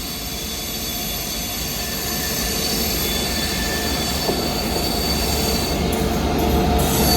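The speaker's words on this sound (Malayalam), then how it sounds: "വിശാഖപട്ടണത്തിന്റെ WP7 ആയിട്ടുള്ള ലോക്കോ വെച്ച് പോകുന്ന ട്രെയിൻ വിശാഖപട്ടണം കൊല്ലം വീക്കിലി എക്സ്പ്രസ് ആട്ടോ" The Visakhapatnam–Kollam weekly express, hauled by a WP7 locomotive, rushes past at Wadakancheri in Kerala with a loud, sustained roar of wheels on rails and faint squealing, close and steady throughout without speech.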